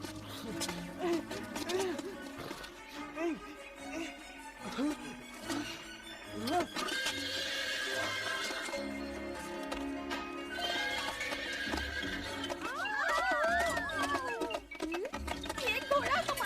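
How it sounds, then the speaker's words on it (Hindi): A horse in a kitchen in a Hindi cartoon whinnies loudly with clip-clopping hooves, mixed with music and voices speaking over it, the neigh rising near the end. "ये घोड़ा हमारी रसोई में क्या कर रहा है?"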